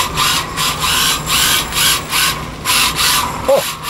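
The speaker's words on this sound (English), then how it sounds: "Let's throw the body on and take it for a little spin on the concrete floor." A GPToys S918 Drift Shark mini RC car runs on a concrete floor, its small motor whirring in steady pulsing surges, with a faint clack near the end.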